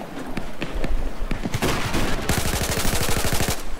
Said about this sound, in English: I got eyes on an enemy machine gun